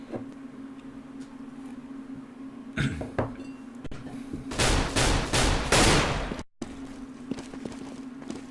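Rifle gunfire in a Counter-Strike: Global Offensive match on the Cobblestone map, with a few sharp isolated shots early followed by a loud sustained burst of rapid fire, then quieter ambient game noise.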